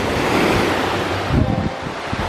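Calm East Sea surf at Gangneung, with waves washing continuously onto the shore, close and fairly loud, mixed with wind buffeting the microphone.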